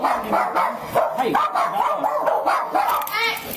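Dogs bark in a rapid, continuous string of yips and woofs, close and loud, in the middle of a tense confrontation with police. A person's voice mixes in among the barks.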